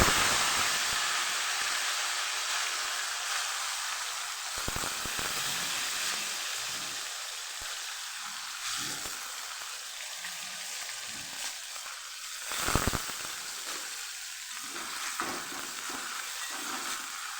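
Potato pieces frying in hot oil in a pan with cumin seeds and asafoetida, a steady broad sizzle with a few brief stirring clatters, heard up close and alone.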